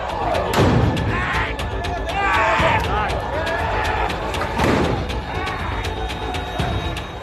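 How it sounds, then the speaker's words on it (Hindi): Heavy booms burst out every couple of seconds over a loud, agitated crowd on an open street during a lockdown liquor-shop rush, cutting through the constant roar of shouting and commotion. "रह रहकर हो रहे धमाके की आवाज शोर पर भी भारी पड़ रही है।"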